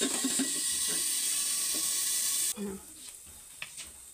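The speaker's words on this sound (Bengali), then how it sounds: "আবার আলুটা লাল লাল করে ভেজে নিই" Potatoes fry in a covered pan with a loud, steady hiss and sizzle that drops off sharply partway through, leaving only faint clinks and soft kitchen sounds.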